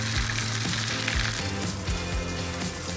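Chicken pieces laid into a hot pan, a dense close sizzle that holds steady for a few seconds, loud and continuous with no talk over it.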